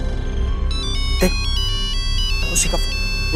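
A phone ringtone plays a repeating electronic melody, fairly loud and close, with dramatic background music and brief sound effects mixed in.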